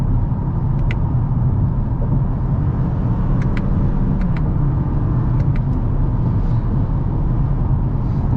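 Steady, loud interior road rumble from a 2024 Toyota Camry cruising in normal drive mode, a continuous low drone with a few faint ticks and no distinct revving.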